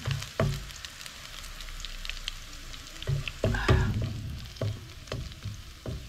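Garlic fries in a pan for a Filipino biryani, a close crackling sizzle with sharp bursts of spattering and stirring clatter at intervals.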